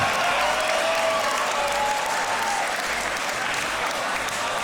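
Sustained crowd applause and cheering fill a Grand Beatbox Battle 2021 arena after a battle, loud and dense for the whole stretch, with a voice faintly calling out over it.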